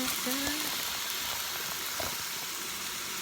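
Steak sizzles in a hot pan in a home kitchen, a steady soft hiss with faint scattered pops, fairly quiet and continuous with no talking.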